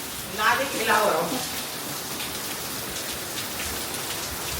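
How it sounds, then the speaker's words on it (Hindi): Heavy rain pours down in a dense, constant roar; a voice speaks briefly near the start. "ये देखिए कितनी बारिश है भाई, बहुत जोरदार"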